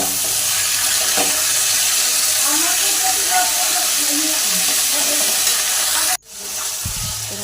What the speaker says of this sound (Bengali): সোয়াবিনটাকে গরম জলে ভিজে ধুয়ে রেখেছি এবং সোয়াবিনটাকে একটু ভেজে নেব